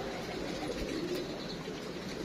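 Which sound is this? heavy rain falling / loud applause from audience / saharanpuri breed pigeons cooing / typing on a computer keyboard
saharanpuri breed pigeons cooing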